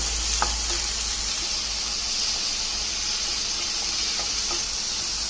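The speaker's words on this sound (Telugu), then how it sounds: "కాజులు ఇవన్నీ దూరగా వేయించుకోవాలి" Cashews and other ingredients frying in a pan, a steady broadband sizzle with faint stirring clicks, close and continuous with no talking.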